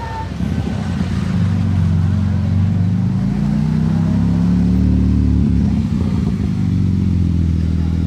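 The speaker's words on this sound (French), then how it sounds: "C'est tellement lourd le bruit d'une GT2 RS." A deep, heavy Porsche GT2 RS engine rumbles loudly and steadily, with its pitch shifting as it revs, close by.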